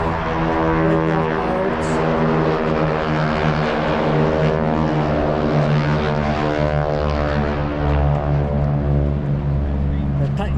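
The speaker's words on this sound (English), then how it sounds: "The Titan Texans, formerly the Airshow Texans, taking off." T-6 Texan propeller airplanes taking off at the Oshkosh AirVenture airshow, a loud, steady droning radial-engine roar with strong humming tones that holds throughout.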